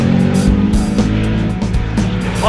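An Audi R8 mid-engine sports car slides through a corner on the Waterford Hills track and bounces off its rev limiter, the engine loud and close with a stuttering, choppy howl before shifting up.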